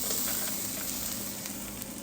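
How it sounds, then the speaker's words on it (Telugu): Grated coconut and soaked chana dal fry in a pan with a steady, dense sizzle that holds close and even throughout, with no voices. "కొంచెం చూసారా కోకోనట్ ఆల్రెడీ బ్రౌన్ టర్న్ అవుతుంది"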